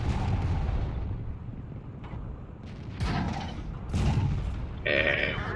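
Tank cannon fire in World of Tanks: a low rumbling battle bed broken by three heavy booms about a second apart, each with a sharp crack and a rolling tail.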